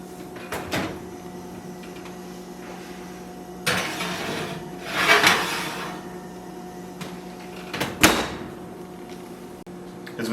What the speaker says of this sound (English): now I'm going to place this corn in the oven at 300 degrees for 10 to 15 minutes